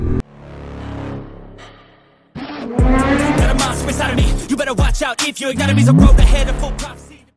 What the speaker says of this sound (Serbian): Škripe gume.